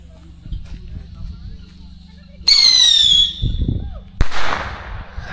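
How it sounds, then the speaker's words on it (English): Fireworks lit and set off outdoors: a sudden whistling screech rising after a quiet stretch, followed by a sharp crack and a crackling burst, with voices and background noise underneath. "We are lighting the fireworks."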